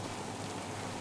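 Steady rain in Farming Simulator 25, a dense, even hiss of falling drops with no talking over it, constant and unchanging throughout.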